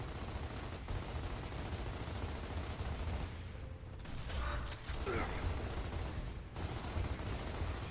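Video game gunfire in Gears of War crackles as steady rattling bursts with mechanical creaks and clanks, moderately loud and continuous, with a brief lull midway.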